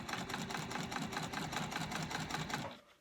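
Sewing machine stitching a seam along the piping of a slim crossbody bag, a steady, even mechanical whir with rapid regular needle beats, close up and continuous before stopping abruptly.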